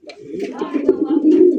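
A fancy racer golla pigeon coos close by in a low, rolling, continuous burble lasting under two seconds, while someone talks quietly over it.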